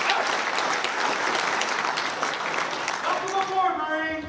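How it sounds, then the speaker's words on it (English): A crowd at a Marine Corps birthday ball breaks into loud, dense applause that holds steady, and a voice begins speaking over it near the end. "Give her another round of applause."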